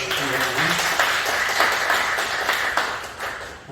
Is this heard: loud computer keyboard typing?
no